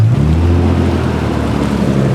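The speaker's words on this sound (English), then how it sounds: "Right as I finished filming, a 300ZX just came." A Nissan 300ZX rolling up nearby, its engine a steady low rumble with a droning hum throughout and no voices.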